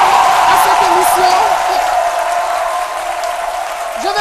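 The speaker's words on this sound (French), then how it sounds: "Et je voudrais qu'on puisse applaudir notre public qui s'est déplacé nombreux pour assister à cette émission." A studio audience at a French-language midday television show applauds loudly and steadily, with a few scattered whoops over the clapping.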